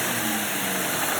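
Car engine idling while warming up, a steady, dense drone with an unchanging hum throughout the short stretch and no voices.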